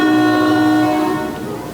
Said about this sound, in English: The Polar Express let out a large blast from its whistle.